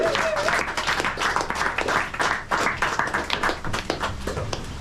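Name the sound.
audience applause for comedians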